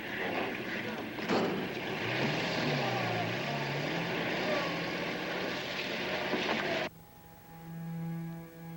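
A biplane's propeller engine drones loudly and steadily overhead, a broad roaring hum that holds for several seconds before cutting off abruptly, leaving a quieter tonal background.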